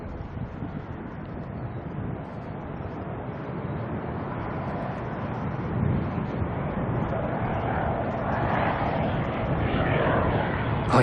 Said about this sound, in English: Our little caravan friends. Barrier, yeah, coming on in.